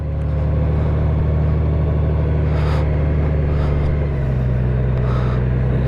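A Honda Goldwing DCT motorcycle rolling slowly in first gear, its engine a steady, close, low rumbling drone that shifts slightly in pitch near the end, with no talking.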